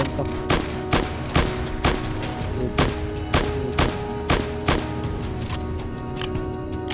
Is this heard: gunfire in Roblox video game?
yes